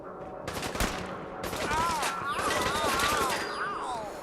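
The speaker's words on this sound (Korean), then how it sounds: "위에서도 쏘고 아래에서도 쏘고" Gunfire in Fallout 4 coming from above and below inside a tall building: dense, rapid overlapping shots and bursts, with a man's speech heard faintly beneath the shooting.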